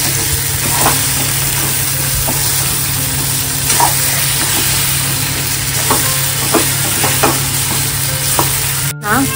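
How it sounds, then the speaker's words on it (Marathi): Eggplant sizzles in a hot pan while a spoon scrapes and stirs at irregular intervals, ending with a sharp clack. "आता त्याच्यामध्ये आपण वांगी टाकू. हलकी आता मस्त परतून घेऊ"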